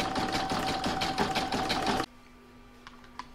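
Embroidery sewing machine stitching a zigzag line on a placemat, a rapid rhythmic clatter of needle strokes for about two seconds before stopping abruptly, leaving a quiet hum and a couple of faint clicks.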